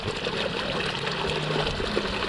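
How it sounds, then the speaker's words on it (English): Water gushes steadily out of a sump pump discharge pipe in a backyard, a continuous, loud splashing rush with no pauses. "So there's our discharge. You can see it's looking really good. The water's just pouring out of here."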